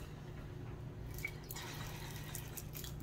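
Worcestershire sauce is poured into a measuring spoon in a home kitchen, giving a faint, soft trickle and drip against quiet room noise.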